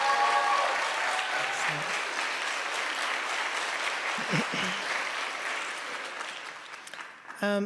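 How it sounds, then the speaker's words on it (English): An audience at a poetry prize ceremony applauds the poets with sustained clapping that gradually fades, while a few faint voices and murmurs come through near the end. "Let's have a round of applause for these amazing poets."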